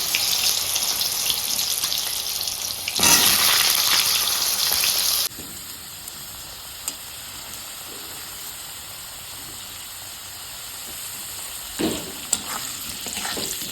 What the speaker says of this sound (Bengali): ওই মূলগুলো ভাজি ভেজে নেব